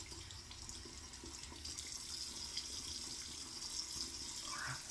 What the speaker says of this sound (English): Wet your brush, because we got a synthetic brush, no need to soak it.